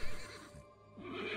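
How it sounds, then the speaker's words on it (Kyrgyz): Horses whinny loudly and nervously, with snorting and restless stamping close by, continuing with no pauses for the whole moment. "Аттар үркүп, гүрс-тарс болуп кошкуруп жатты."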